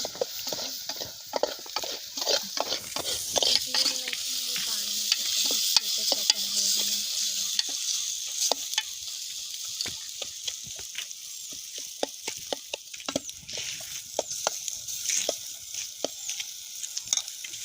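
Frying in a pan with turmeric and chili masala mix for potato rice, a constant bright sizzle with repeated scraping and stirring clicks, close up and fairly loud.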